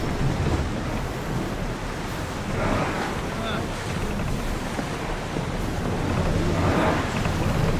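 Ship under sail on open ocean waves in the game Assassin's Creed Odyssey, a loud continuous wash of surf and wind with swelling gusts, rolling on for several seconds while faint voices occasionally rise beneath.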